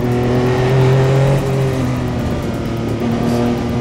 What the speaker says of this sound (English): The torque of the motor is great, and then you get this wallop at the top end.